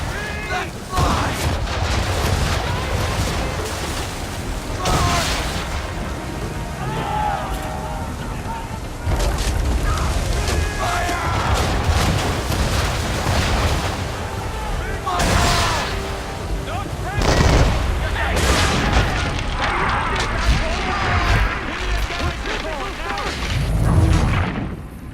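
Ship cannons firing in a naval battle in Assassin's Creed 3, heavy booming volleys rolling one after another over wind and sea noise, loud and continuous with shouted voices.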